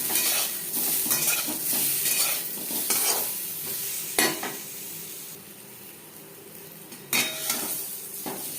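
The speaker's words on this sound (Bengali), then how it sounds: "আলু লালচে করে ভাজা হয়ে গেছে।" Potatoes frying in a pan with turmeric and salt for an aloo chicken curry, a soft steady sizzle broken by repeated utensil scrapes and clinks against the pan, no voices.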